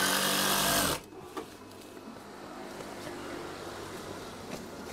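A sewing machine stitching curtain fabric runs with a loud, fast mechanical whir for about a second, then stops abruptly, leaving quiet room noise with a few faint knocks.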